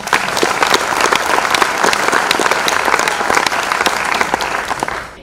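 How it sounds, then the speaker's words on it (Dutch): Loud audience applause at a literary café in Barneveld: many hands clapping briskly and sharply at close range, sustained throughout and tapering slightly at the end. "Applaus voor Isa Hoes."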